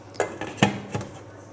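A metal lid set onto a pot of sweet Armenian rice pilaf with dried fruit, three quiet clinks and knocks close by, with no talk.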